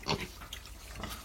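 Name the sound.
piglets eating and drinking water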